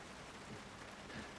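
Steady, dense rain hisses in an iRacing race at Daytona, a constant wash of noise with no breaks, quiet in level.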